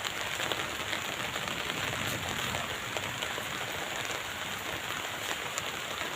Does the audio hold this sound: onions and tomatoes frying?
no